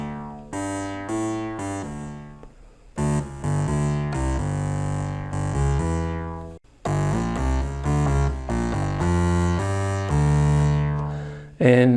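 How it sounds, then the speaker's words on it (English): An original Korg Volca Bass synthesizer plays a sequence of sustained, buzzy bass notes that change pitch in steady steps, loud and close, with a brief gap before the pattern resumes. "Right now I've got the volume turned up on the Volca Bass, the original, and so that sounds like this."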